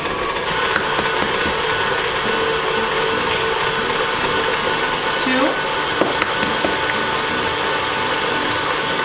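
Electric mixer on medium speed beating large eggs into cake batter for a cranberry lemon bundt cake, a steady loud whirring hum with light clicks and knocks from the beaters against the bowl.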